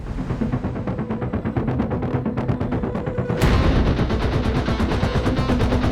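Rapid bursts of gunfire crackle continuously in a dense, loud action-movie mix, with a sharp louder blast midway and rumbling underneath.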